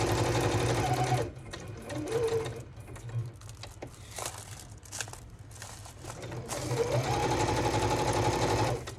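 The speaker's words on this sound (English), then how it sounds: "If you ever go to buy a sewing machine," A sewing machine stitches in bursts, running fast and steady, pausing with faint clicks and handling noise, then whirring back up to speed.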